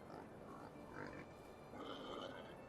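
Pigs grunting in the Medieval Dynasty farming game, soft low grunts and snorts mixed into a faint, steady background ambience.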